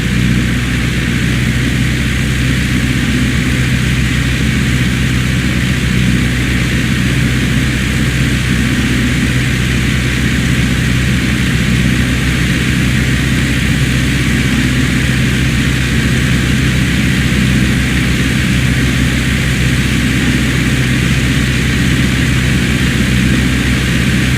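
Aircraft engine in the flight simulator FSX Steam Edition on approach to landing, a loud, unbroken propeller drone with a steady hum that holds level throughout, with no voices.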